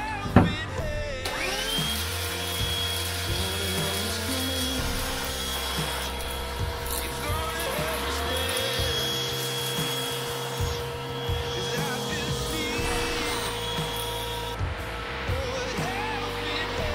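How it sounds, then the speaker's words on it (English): A small Black & Decker handheld vacuum whines steadily throughout aboard a 1990 Island Packet 35-foot sailboat, a constant high motor tone with rattling and scraping debris noises underneath. "Using our new Black & Decker handheld vacuum. It's gonna be loud, sorry."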